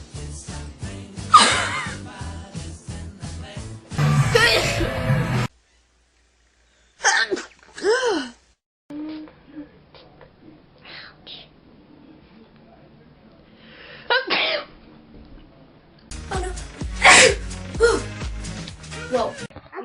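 A woman sneezes in loud bursts separated by pauses, with quieter breaths and snorts between them; her voice and another voice talk briefly around the sneezes.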